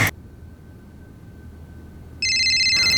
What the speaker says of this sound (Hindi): मेरा फोन बजा ना, मतलब मेरा वाला।